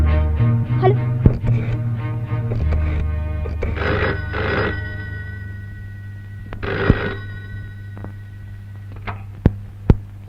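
An old telephone bell rings in repeated bursts indoors over a low hum, with a few thumps and clicks near the end as the rings stop.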